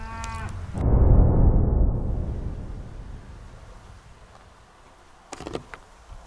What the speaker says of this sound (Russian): звук мычания коровы или быка